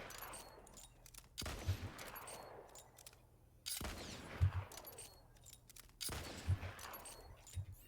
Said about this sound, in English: the first shot fired from Zane's gun has a chance to also fire a grenade